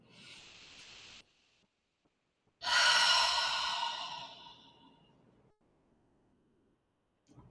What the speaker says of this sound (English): Close your eyes, take a deep breath in,